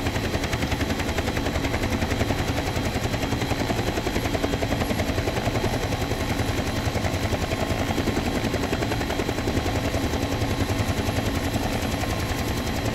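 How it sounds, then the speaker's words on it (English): A Nimbus Huey helicopter flying in the X-Plane 11 flight simulator, its rotor beating in a steady, dense chop over a continuous engine roar that runs unbroken and fairly loud throughout, with no talking. "now let's get back to flying this helicopter."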